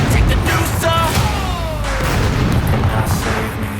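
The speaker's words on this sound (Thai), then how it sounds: "มันคว้างระเบิดอย่างเดียวเลย" Grenade blasts in SCUM during a player-versus-player fight, loud bursts near the start and again toward the end, with a falling whistle between them and a voice talking over the noise.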